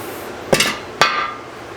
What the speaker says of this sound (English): I think I got the threads with the hammer.